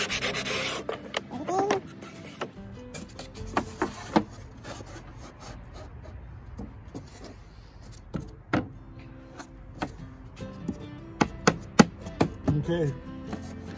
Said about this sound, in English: we still have more sanding to do